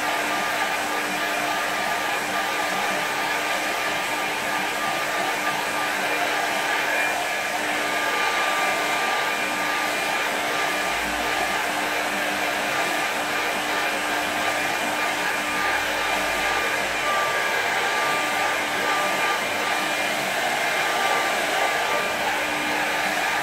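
A hair dryer blows steadily over a wet watercolour painting, a constant loud whooshing hum with a thin whine that runs unbroken for over twenty seconds, with no talking.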